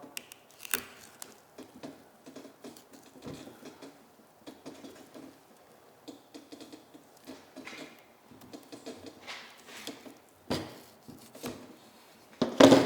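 A knife cuts the hide off a deer during caping, making soft, close slicing and tearing sounds in irregular short bursts, with occasional handling noises and a louder rustle at the end.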